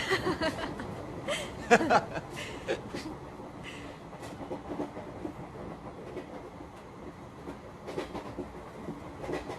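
A passenger train runs along the rails with a steady rumble and faint clickety-clack, while people talk and chuckle nearby throughout.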